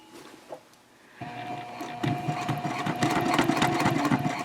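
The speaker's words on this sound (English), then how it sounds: "I'll just sew across that top one more time" A sewing machine starts up and stitches across the top of a fabric shopping bag, a fast steady mechanical whir and needle chatter that grows louder and keeps running close to the microphone.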